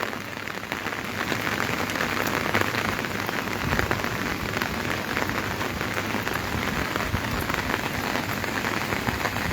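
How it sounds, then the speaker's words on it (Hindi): Heavy monsoon rain pours steadily in Shimla, a dense, continuous hiss of drops drumming on surfaces close by, with no voices over it. "इस तरह से तेज़ बारिश है"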